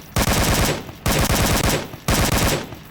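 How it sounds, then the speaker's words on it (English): A handheld automatic weapon fires full auto with only one hand on it, producing three long, loud rattling bursts of rapid shots separated by brief pauses. "if you're going to go full auto with any weapon, you've only got one hand with it, it's going to act a bit crazy"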